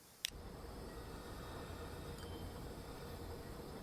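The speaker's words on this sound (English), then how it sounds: "Is that the train?" A train rolls along in the video game Transport Fever 2 as a steady, dense rumble of rail noise that holds at an even level throughout, opening with one brief sharp click.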